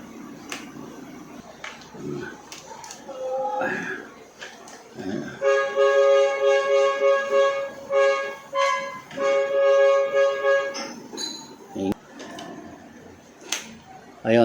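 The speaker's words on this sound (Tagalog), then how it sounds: "maingay talaga yung rito. Busina ng busina." Vehicle horns honk repeatedly nearby, with two long loud blasts and a few shorter toots, and a person talks in between.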